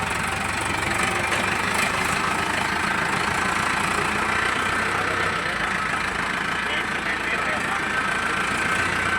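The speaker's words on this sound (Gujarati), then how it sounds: "ટ્રેક્ટર ચાલુ થઈ ગયું હે" A tractor engine idles steadily after starting on a farm, a loud, continuous mechanical rumble with knocking texture filling the whole stretch without letup.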